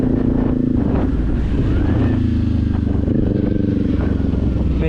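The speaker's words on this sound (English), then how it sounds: "riding my motorcycle in high winds" Motorcycle engine rumbling steadily while riding in high winds, a low continuous drone with buffeting wind noise against the microphone throughout.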